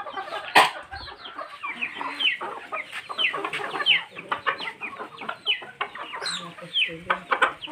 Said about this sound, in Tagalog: yung mga manok mo